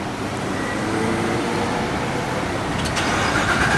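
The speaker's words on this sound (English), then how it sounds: "All right, first startup I've heard." A C7 Corvette Z06 with a newly fitted aftermarket exhaust fires up, its engine roaring loudly and steadily through the whole stretch with a sharp rise near the end.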